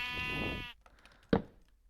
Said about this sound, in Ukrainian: А ось вівці.